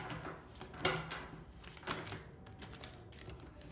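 Tarot cards shuffled by hand in a plain, non-flashy style, giving soft papery riffles and irregular taps close by, quiet and steady with a few sharper flicks, no talking.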